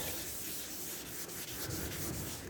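A palm rubs primer on a Honda ST 1100 motorcycle panel, making a continuous close, dense abrasive rasp with faint rhythmic strokes and no talk.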